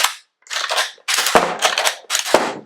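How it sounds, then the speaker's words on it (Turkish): Shells are emptied from a Huğlu Atrox pump shotgun using its release lever, giving four quick bursts of sharp clacking and rattling as the cartridges drop out, close and crisp, with no voices. "şöyle yaparak içinde ne kadar fişek varsa hepsini dışarıya hızlı bir şekilde boşaltacağız"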